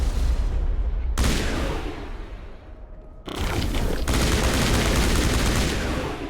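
Loud bursts of rapid gunfire from the video game Mass Effect Legendary Edition, with a long volley, a brief lull of fading echoes, then heavy sustained shooting resuming.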